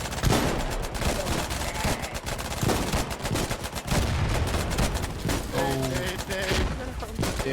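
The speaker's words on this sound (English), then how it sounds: "Increase distance to 80 and then continue firing." Dense, continuous gunfire from the Foxhole war game, with rapid overlapping shots and bursts that sound like machine guns and rifles firing without pause, loud and steady throughout.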